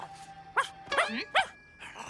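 A cartoon dog barks up close, three or four short yappy barks in quick succession with a whiny edge, heard alone over a quiet background.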